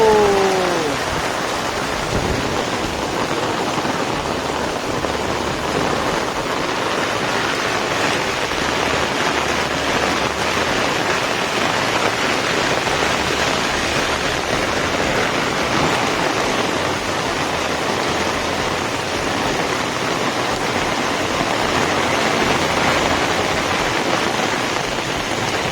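Heavy rain pouring down at an ashram, a dense, loud, unbroken roar of falling water that holds steady for the whole stretch with no voices.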